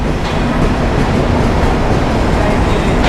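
A Rajshahi to Dhaka train rumbles close by as it arrives at Kamalapur railway station, with a steady, heavy clatter that holds at the same level throughout, with no voices.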